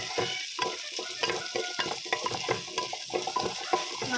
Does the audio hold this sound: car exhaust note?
no